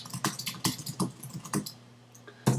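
Bursts of computer keyboard typing come close and clear, with irregular clusters of key clicks separated by short pauses, while a quiet steady hum runs underneath.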